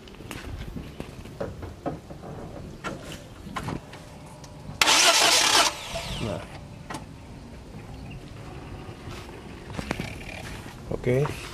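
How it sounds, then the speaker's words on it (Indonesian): A Toyota Agya / Daihatsu Ayla car engine cranks and catches in a brief, loud burst near the middle, with the spark plugs out during a carburetor cleaner treatment. Talk and handling noises come before and after. "Coba start bentar ya, biar airnya agak keluar dulu."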